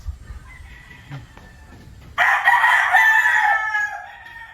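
A rooster crows once on a farm, a loud, close call that starts abruptly after a quiet stretch of faint clucking and rustling.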